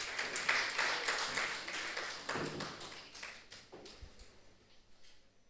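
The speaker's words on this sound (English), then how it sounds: "please clap for him." Scattered audience clapping at a university research symposium as a professor comes forward, a thin patter of hands that fades out over several seconds.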